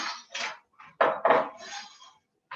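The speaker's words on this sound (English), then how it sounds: "I'm just peeling my celery root" A celery root being peeled in a kitchen for raw vegan cooking, heard as short scraping strokes up close, a few quick ones and then several louder scrapes, with short pauses between them.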